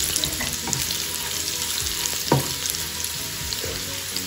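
Garlic sizzles steadily in hot oil as it fries for moong and masoor dal, with occasional soft scrapes of stirring close by.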